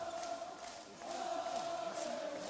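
Crowd noise fills a basketball arena in Bourges after the final of the EuroCup Women between Tango Bourges and Umana Reyer: a steady, dense roar with a brief dip near the one-second mark.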